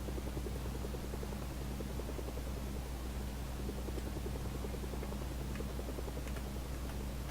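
Helicopter in the game Mercenaries, a steady rotor thrum and whirring engine drone carrying evenly and continuously at moderate volume throughout.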